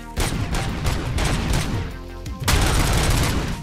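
Sustained gunfire from the video game Robocop: Rogue City, a loud dense burst of rapid shots and impacts filling the clip, briefly easing near the middle before a heavier volley resumes.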